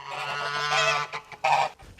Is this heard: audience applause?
no